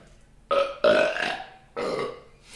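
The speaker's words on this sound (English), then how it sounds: "I literally cannot force myself to burp at all." Loud, close burps come from a person on a comedy podcast: three separate croaking belches, the second long and drawn out, with quiet gaps between them.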